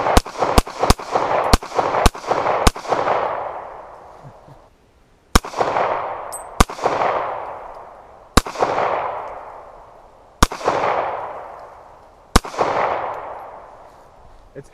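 Sharp 9mm pistol shots fired at a television outdoors: a quick burst of about six rapid shots, then five more spaced a second or two apart, each loud crack trailing off in a long echo.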